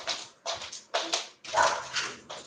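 Dogs bark repeatedly in quick, loud bursts nearby, with short gaps between barks.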